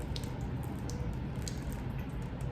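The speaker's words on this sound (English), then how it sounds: "I'm gonna pour this in" Water poured into a fabric grow bag of soil, soaking in and seeping through as a soft, steady, close wash of trickling and squishing with a few faint drips, no talk.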